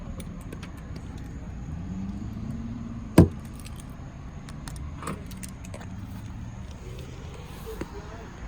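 Keys for a 2007 Volvo XC90 3.2 jangle in a quiet setting. A single sharp metallic clink stands out among a few faint scattered ticks and light handling noise.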